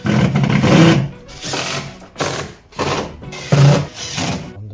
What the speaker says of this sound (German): Nehmen wir uns wieder den Torx 25, schrauben den hier unten schon mal fest.